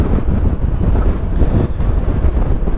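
Strong, cold wind roars steadily over the microphone while riding a 2022 Honda Forza 125 maxi scooter, a loud, dense rumble with no talk.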